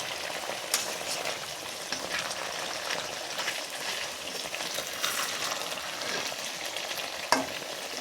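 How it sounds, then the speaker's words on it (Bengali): Live fish fry in oil alongside a cauliflower curry, a continuous close sizzle and crackle with occasional clinks and scrapes as the pieces are turned over, no talking. "এখন মাছগুলো উল্টিয়ে দেবো, এখন উল্টিয়ে দেবো মাছগুলো।"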